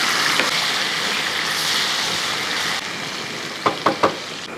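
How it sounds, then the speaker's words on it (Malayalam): Food sizzles steadily in hot oil, a loud, continuous frying hiss with a few sharp clatters near the end, with no talking. "എണ്ണ ചൂടായി കിടക്കുകയാണല്ലോ അതിന് അതിൻ്റെ അകത്തോട്ട് നമുക്ക് കുറേശ്ശെ അങ്ങോട്ട് ഇട്ട് കൊടുക്കും"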